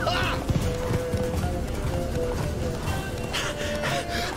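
Geralt's horse Roach gallops in The Witcher 3, a steady drumming of hooves beneath game music and ambient noise, with a voice speaking briefly over it.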